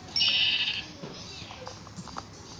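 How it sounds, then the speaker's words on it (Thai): A sheep bleats once, loud and close, in a Minecraft-style survival video game, followed by quieter scattered game noises and faint background sounds. "โอ้โหแกะเพียบเลย"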